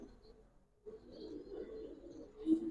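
A Giribaz pigeon coos in soft, low murmuring bursts close by, faint overall with a slightly louder call near the end and no talking.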